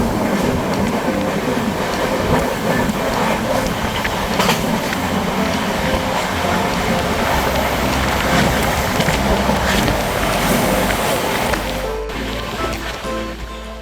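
The Rajdhani Express rolls along the tracks near Kalyan heading toward Thane during monsoon, a loud steady rumble with rhythmic clickety-clack of wheels over rail joints, heard from inside the moving train.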